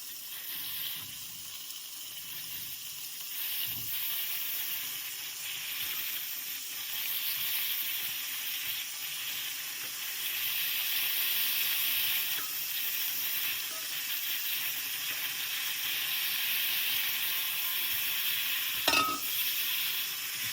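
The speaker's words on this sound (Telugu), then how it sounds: "ఆనియన్స్, గార్లిక్ లిటిల్ బ్రౌనిష్ అయినాక స్కలూప్స్ యాడ్ చేసుకుందాం." Onions and garlic frying in a pan until browning, scallops going in; a soft continuous sizzle with occasional stirring scrapes and a brief clatter near the end, no voices.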